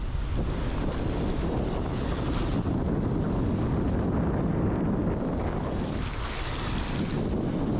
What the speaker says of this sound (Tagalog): Yan yung papita ko sa inyo yung dagat.